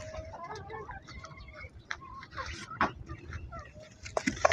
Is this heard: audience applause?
no